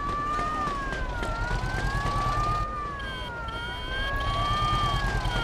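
A police car siren in the video game Mafia 2 wails in a continuous rising-and-falling tone over a rumbling engine and street noise, loud and close.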